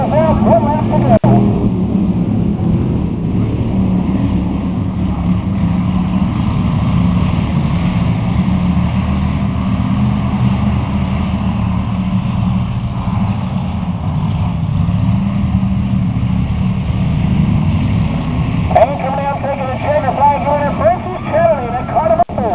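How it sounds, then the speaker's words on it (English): Race cars on the final lap of a cruiser heat race roar steadily as a continuous engine drone, with a commentator talking over it throughout and a brief burst of crowd or track noise near the end. "Here comes Francis Chatterley back in that car at 4, they're going to turn 3"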